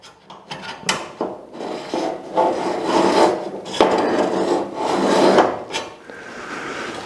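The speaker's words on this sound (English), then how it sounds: "I'm also going to scribe some marks here on the side of the cab." A tool scribes marks into the metal side of the cab of a 1951 Chevy truck during a roof chop, making close, irregular scraping and rasping strokes in short bursts.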